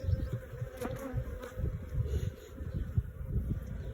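A honeybee swarm at the hive, checked for the presence of a queen, makes a dense, close, continuous buzzing that drones on steadily throughout with no talking.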